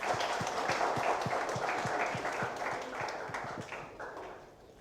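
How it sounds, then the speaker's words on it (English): Applause at a book launch for Isha N's "Just Another Teenage Girl": a crowd claps steadily with rhythmic, fairly even claps that gradually thin and fade toward the end. "very, very big round of applause to both of you"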